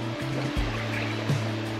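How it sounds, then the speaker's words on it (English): The Brontë waterfall flows with a steady, broad rush of falling water, heard from nearby on a walk, with a faint constant hum running beneath it. "There we have it, the famous Brontë waterfalls."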